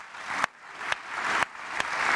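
Audience applause for Charles Honoris in a television talk-show studio: a steady wash of clapping with a few sharper bursts, moderately loud and with no voices over it.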